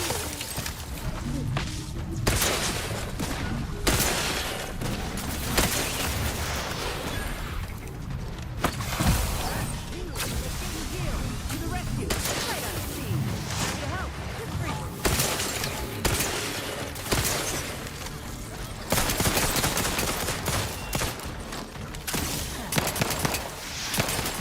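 Dense, continuous gunfire fills a combat firefight in The Outer Worlds 2: rapid overlapping shots and impacts with crashing bursts, loud and close throughout, with occasional voices underneath.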